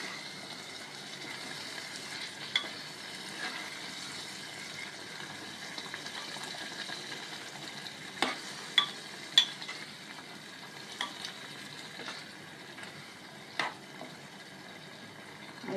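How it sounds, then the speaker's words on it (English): Mutton frying in a pan sizzles softly as water is added little by little, with several sharp clinks and scrapes of stirring over a low, steady hiss. "Add water little by little."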